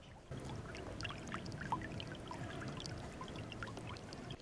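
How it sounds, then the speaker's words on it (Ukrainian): Sewage bubbling and gurgling up out of a sewer manhole in a residential private-housing area of Kyiv, a steady wet churning and trickling flow, close and continuous without any talk. "У повітрі нестерпний сморід з каналізаційного колодязя аж булькає."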